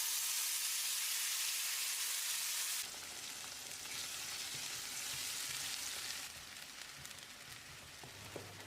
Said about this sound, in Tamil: நம்ம அரைச்சி வச்சிருந்த பேஸ்ட்டை ஊற்றி கலந்து விட்டுடலாம்